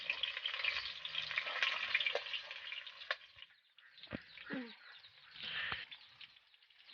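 Turmeric, onion and chilli frying in a pan while preparing duck curry, a steady broadband sizzle that thins out in the second half, with faint voices and occasional utensil scrapes.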